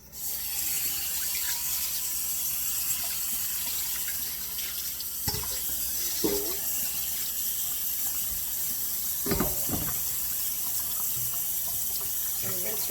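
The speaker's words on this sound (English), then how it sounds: "I'm going to rinse this out because we're going to need this big bowl." A big kitchen bowl is rinsed under a running tap, a steady close gush of water filling and splashing, with a few knocks and clunks of the bowl against the sink.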